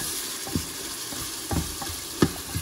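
Cumin seeds sizzle in hot oil in a pan as a tadka for a carrot, potato and pea curry. The frying hiss is steady and close, broken by a few brief stirring scrapes.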